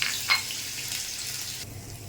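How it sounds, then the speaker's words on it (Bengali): Onion, garlic and ginger sizzle steadily in a tablespoon of hot oil in a heated kadai, a soft continuous frying hiss with a brief louder crackle near the start. "তেলের মধ্যে পেঁয়াজ রসুন আদা দিয়ে দিলাম"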